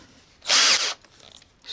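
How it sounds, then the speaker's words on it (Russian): Power drill boring a hole with a thicker bit, perpendicular to an earlier hole in a homemade fishing rod side bite indicator, one short loud whirring burst of about half a second between quiet pauses. "И сверлом чуть потолще делаем перпендикулярно нашему первому отверстию."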